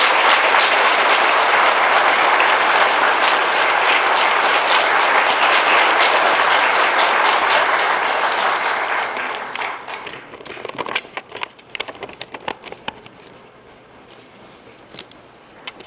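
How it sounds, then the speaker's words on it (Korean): An audience of professors at a national university faculty rally gives a loud, dense round of applause to welcome a speaker, sustained for several seconds before thinning into scattered claps that trail off. "큰 박수로 맞이하겠습니다"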